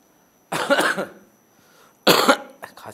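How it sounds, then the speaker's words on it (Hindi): Two harsh, forceful coughs, close to the mic, separated by a short pause of near silence. "खांसी जा ही नहीं रहा"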